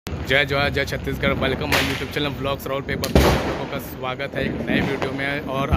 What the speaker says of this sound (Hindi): सब सुन पा रहे होंगे बैकग्राउंड पे की पटाखा फूटने की आवाज़ें